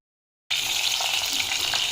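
Oil sizzles in a hot kadhai being heated to cook a chicken rassa, bursting in abruptly after a short silence and then holding a steady, loud, close crackling hiss with no talk over it.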